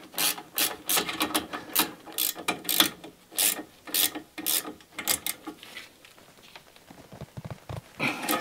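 Sharp, quick ratcheting clicks come in short repeated bursts as a small screw is tightened on a part of an Alfa Romeo car, close and crisp, with brief pauses between strokes and no speech.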